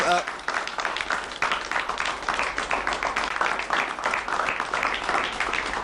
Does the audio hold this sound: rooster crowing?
no